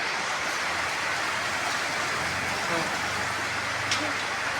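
Heavy morning rain pours down in a dense, steady hiss that stays even throughout, with a low rumble underneath and a faint voice now and then.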